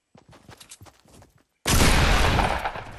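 Fortnite gunfire near a jump pad starts with a few scattered light taps and footstep-like clicks, then a sudden loud, dense barrage of rapid shots erupts and holds for the final second and a half.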